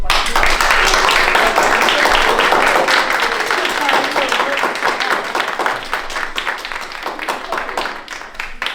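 Steady applause from a group honouring two instructors at a final presentation, dense continuous clapping lasting several seconds without voices on top.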